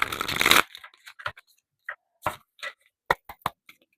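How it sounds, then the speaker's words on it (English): A quick riffle of tarot cards opens the clip, followed by scattered soft taps and flicks as cards are handled, close and quiet, with no talking. "I'm hearing I have to shuffle again."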